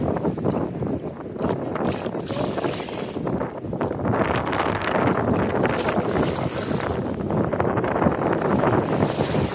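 Strong wind on the shore at Nanoose Bay, Vancouver Island, buffets the microphone in a steady, heavy roar throughout, with gusts rising and falling and no talking.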